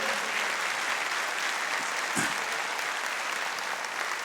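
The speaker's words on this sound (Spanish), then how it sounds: "Un aplauso a nuestro Dios." A church congregation breaks into steady, dense applause that fills the space evenly from start to finish, with a brief heavier thump midway through.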